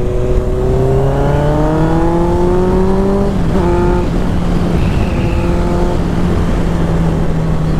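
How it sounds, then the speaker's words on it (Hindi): A Honda CBR motorcycle revs up on a Sunday road ride, its engine note climbing steadily through the gears with one brief shift break, loud and close throughout with no talking. "तो थोड़ी सी बाइक भगाते हैं, थोड़ी सी ज़्यादा नहीं।"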